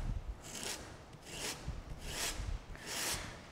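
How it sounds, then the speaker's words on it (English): Electric sander pressed onto stencilled paint on a wooden clock to distress it, four rhythmic rasping strokes of roughly equal length, close and fairly quiet, with no talking. "you're going to take your sander here and you're going to press in just a little bit more"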